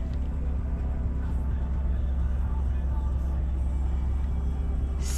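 A 2019 Lexus IS300 F Sport Blackline Edition under way. A steady low road and engine rumble fills the cabin with no change in pace.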